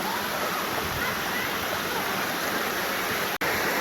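A river waterfall roars as a dense, steady rush of falling water, loud and close for the whole stretch, with only a momentary break near the end.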